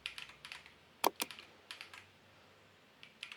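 Typing on a split computer keyboard: a quiet, close run of crisp key clicks in irregular clusters, with a couple of louder keystrokes in the middle, no speech over them.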